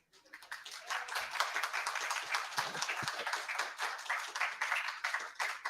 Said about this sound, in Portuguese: É só todo mundo bater palma de novo.